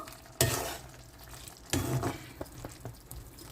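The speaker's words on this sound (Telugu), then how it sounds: "బ్రకోలీ, బఠానీ అన్నీ వేసి చక్కగా ఉడికించుకుంటున్నాను" Chopped broccoli and peas cook in a pan, with a few scattered stirring scrapes and soft sizzling bursts, close and fairly quiet.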